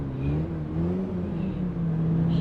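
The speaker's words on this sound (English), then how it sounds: "I was revving up the engine to see if it sounded any different" Mazda MX-5 engine in City Car Simulator revving with a steady low droning tone that rises and falls slightly, holding close and continuous throughout.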